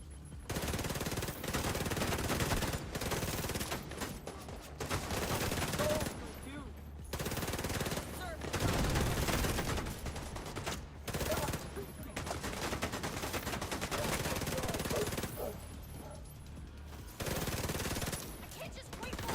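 Turret gunfire in the video game The Division 2: long, loud automatic bursts of rapid shots, broken by brief pauses and then resuming, with heavy rattling fire throughout.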